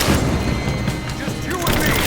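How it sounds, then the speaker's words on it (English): A grenade explosion in the Tomb Raider video game, a loud, broad blast with crackling debris amid ongoing gunfire, with shouted voices in the mix. "Throwing a grenade!"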